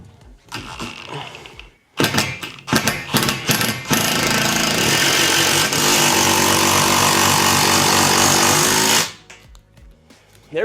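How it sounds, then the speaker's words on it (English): Impact drill driving screws for a sliding TV ceiling mount rail system: a few short bursts, then a long loud sustained hammering whir of about five seconds, ending abruptly, close up with no talk. "It's also good to have an impact drill like this one."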